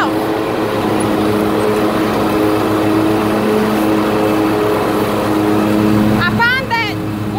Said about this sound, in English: I can start up my John Deere. all right, I'll do this.